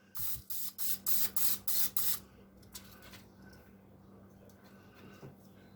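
Seven short, rhythmic bursts of cooking spray hiss onto chicken wings in quick succession, close by, followed by quiet handling sounds over a low hum.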